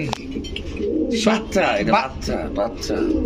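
Royal Teddy Pakistani pigeons cooing close by, soft throaty burbling calls repeated in bursts, mixed with chatter from people at a pigeon market.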